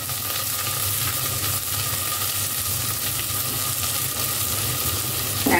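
Chopped onion frying in hot oil with large and small cardamom, cinnamon and bay leaf, a steady close-up sizzle that holds at an even level throughout with no talking.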